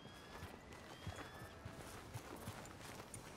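Horse hooves clip-clopping at a steady walking pace in the video game Red Dead Redemption 2, a soft rhythmic thudding over a continuous ambient outdoor bed with faint distant birdsong.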